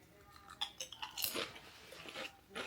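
Kettle chips crunch loudly in someone's mouth, a series of close sharp bites followed by uneven chewing.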